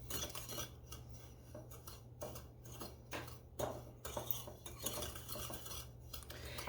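A Danish dough whisk stirs oatmeal cake batter in a bowl, making close, repeated clinking and scraping strokes in an uneven rhythm over a low steady background hum.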